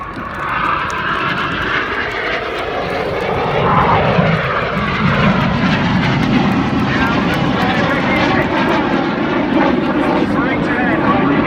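Red Arrows jets of the synchro pair passing at the Sunderland air show, a loud sustained roar that swells from about four seconds and holds steady, with crowd and commentary voices mixed underneath.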